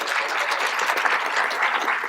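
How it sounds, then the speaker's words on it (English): Steady, even applause from a lecture audience at a medical talk on percutaneous heart valves, a soft continuous wash of many hands clapping. "So they deserve a round of applause for that"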